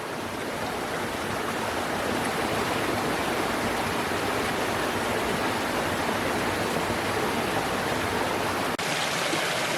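A mountain creek flows near a road culvert, a steady, full rushing wash of water that stays constant and moderately close throughout, with no voices.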